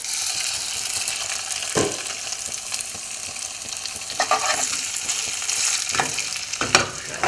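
Thick chunks of freshly caught fish fry in a pan, a steady close sizzle with occasional louder crackles and bumps as they cook.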